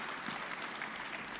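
A church congregation applauds at a worship service, a steady, soft wash of clapping from many hands with no talking over it.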